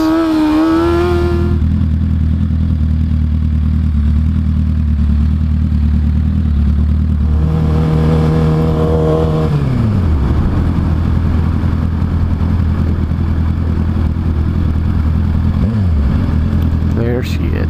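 Motorcycle engine revving loudly and close, with rising and falling pitch as it does wheelies, running continuously under occasional voices.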